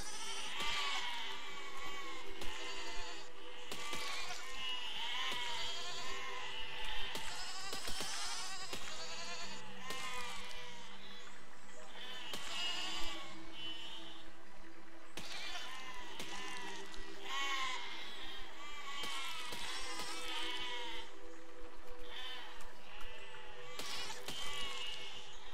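Sheep bleat over and over in the physics building game Besiege as a vehicle drives across a field of them, the bleats overlapping in steady, fairly loud bursts across the whole stretch.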